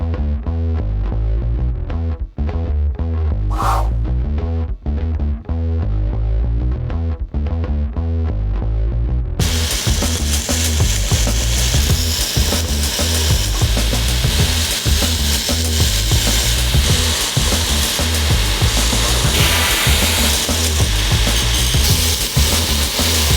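Knife bevel being ground on a grinder, making a steady, loud abrasive rasp that carries on without a break and grows harsher and brighter partway through.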